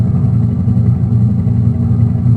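A background helicopter in the video game Payday 2 gives a constant, deep, pulsing drone that stays loud and even from start to finish, with no speech over it.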